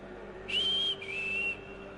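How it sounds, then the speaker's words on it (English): A shrill whistle blows twice in a video game, two sustained high tones, the first slightly longer, close and clear over a low steady hum with no talking. "That whistle sounded familiar."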